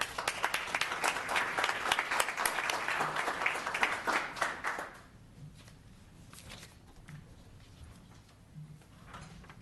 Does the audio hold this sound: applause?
yes